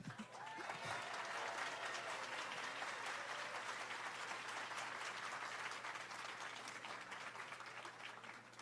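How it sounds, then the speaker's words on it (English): An audience at an outdoor Philadelphia celebration gives the cheerleaders a long, dense round of applause that holds strong throughout and eases slightly at the end, with a steady low hum underneath. "let's give another round of applause for the Andrew Hamilton cheerleaders and their amazing coach"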